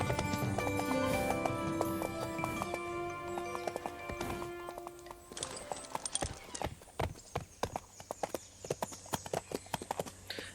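Horse hooves clip-clopping during a ride through a factory in a video game, with a steady rhythmic trot that turns into sharp, separate hoof strikes over background music, near and moderately loud.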